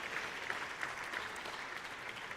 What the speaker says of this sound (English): How about another round of applause for the President?